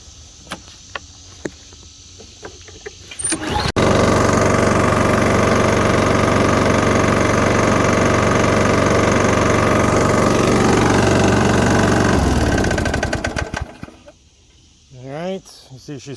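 A neglected lawn mower engine fires on starting fluid and runs loud and steady for about eight seconds, close by, before sputtering and dying, with a few clicks and faint sounds before and after.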